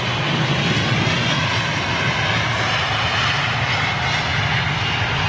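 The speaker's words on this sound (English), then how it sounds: "A380 making its way out" An Airbus A380 taxis out for departure at Heathrow, its jet engines a loud, steady roar with broad hiss, constant throughout and close.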